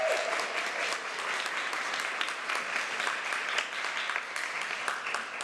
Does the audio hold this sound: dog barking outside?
no